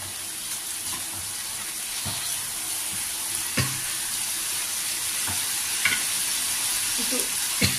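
Ginger-cumin paste crackles and sizzles in hot oil in a home kitchen, a steady close hiss with scattered sharp pops and a few faint utensil knocks.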